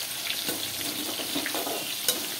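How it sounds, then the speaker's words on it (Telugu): Chicken leg pieces fry slowly in oil on a low flame, a steady close sizzle with soft crackles and occasional stirring scrapes, no voices over it. "ఫస్ట్ రెండు రెండు వేగిస్తాము స్లోనే ఉంచా ఎందుకంటే హైలో పెడితే మాడిద్ది లో ఫ్లేమ్లోనే ఉంచుకోవాలి"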